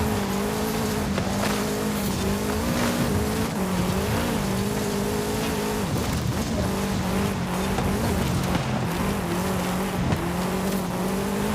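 A car in the racing game Forza Horizon 5 accelerates with a loud, constant engine roar whose pitch rises and falls, with tire squeal running underneath throughout.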